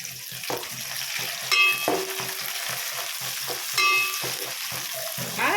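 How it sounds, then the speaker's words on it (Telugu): Onions and curry leaves fry in a pan, giving a steady close sizzle. A utensil stirs them in a few sharp clanking scrapes against the metal. "ఆనియన్స్ మంచిగా దూరగా అవుతున్నాయి కరివేపాకు వేసుకున్నాము కరివేపాకు వేసి కొంచెం తిప్పాలి"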